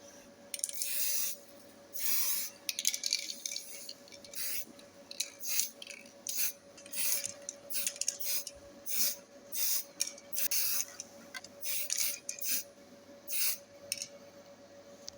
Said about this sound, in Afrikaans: En dan gaan ons dit nou eers spuit.